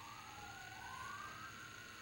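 An ambulance siren wails steadily in the distance, its pitch sweeping smoothly up and down, faint beneath a constant background hum.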